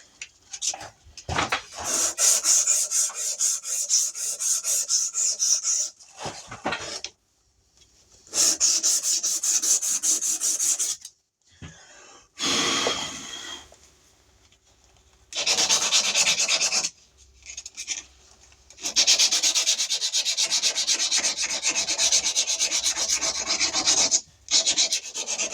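Sandpaper rasps back and forth over a wooden ball peen hammer handle in rhythmic bursts of rubbing. The bursts are close and loud, separated by short pauses, and no one speaks.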